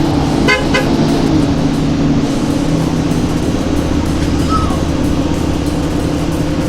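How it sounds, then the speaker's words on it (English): Two quick horn honks from a bus sound early on over a loud, constant rumble of engine and road noise. "Truckers don't like it when you honk at them for no reason."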